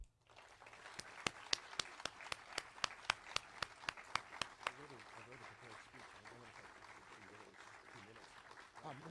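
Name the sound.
audience applause for Tom and Gail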